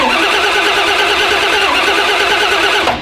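The engine of the Red Lobster car cranks over fast and loud in one unbroken, even churning that runs for about three seconds before stopping abruptly, with nobody talking.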